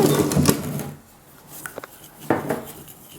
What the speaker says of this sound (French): un fouet en métal, c'est mieux. Parce qu'un fouet en plastique, ça se tord tout et c'est pas très, très pratique pour... voilà. Donc, ensuite, on mélange.